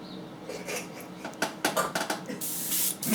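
A Badger airbrush spraying water-based Auto Air paint hisses in short and longer bursts of spray, close up, with brief pauses between passes.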